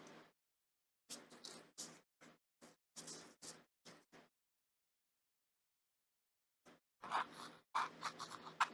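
Scissors cut through a cardboard box for a small boxed weighted stand, giving quiet, close, scratchy snips in short bursts with a long pause in the middle before a denser run of cuts.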